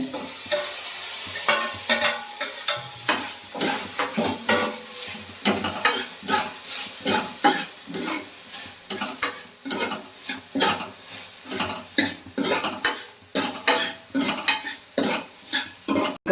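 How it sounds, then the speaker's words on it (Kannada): Roasted onions and tomatoes fry in a pan while a utensil stirs them, giving rhythmic scraping and clinking over a steady sizzle, close and fairly loud, with no voices. "ಈರುಳ್ಳಿ ಚೆನ್ನಾಗಿ ರೋಸ್ಟ್ ಆಗಿದೆ ಟೊಮೆಟೊ ಹಾಕ್ತಾ ಇದ್ದೀನಿ"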